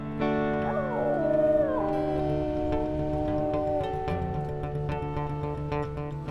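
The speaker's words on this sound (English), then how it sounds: "Requiem and Skunk howled in defiance" Wolves in a video game howl together, long rising and falling layered voices near and loud, with yips and whines mixed in toward the end.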